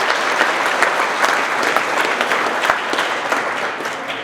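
Steady, enthusiastic applause from an indoor crowd at a trucking company's monthly employee celebration, dense clapping throughout without a break.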